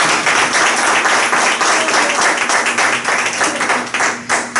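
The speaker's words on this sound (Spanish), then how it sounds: "Yo pido un aplauso para este hombre." A church congregation claps loudly in a continuous, rapid patter of many hands, close and full with a faint rhythmic pulse and no speech over it.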